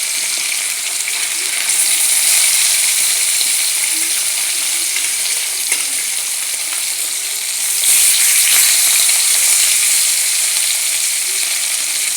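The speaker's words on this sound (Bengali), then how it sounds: "আচ্ছা, আমার তেল গরম হয়ে গিয়েছে, এখন আমি এক এক করে মাছগুলোকে দিয়ে দেব।" Pieces of catla fish sizzle in hot oil, a loud, steady crackling hiss that continues throughout and swells briefly partway through.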